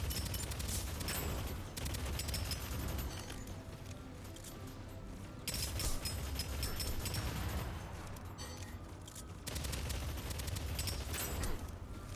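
Gunfire against zombies in Dead Space: rapid fusillades of shots arrive in dense bursts separated by brief lulls, moderately loud over game ambience.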